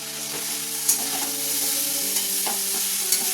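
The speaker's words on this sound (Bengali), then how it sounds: "এবার এটাকে হালকা আমি তুলে একটুখানি নাড়িয়ে নেবো" Vegetarian chow mein noodles are lifted and stirred in a pan of boiling water, giving a steady bubbling hiss with soft clacks of the utensil against the pan. Nobody speaks.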